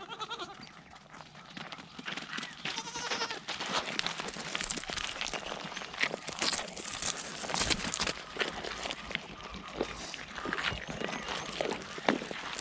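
Goats bleat and shuffle as they are let out onto pasture inside an electric fence, with scattered overlapping calls, footsteps and rustling close by.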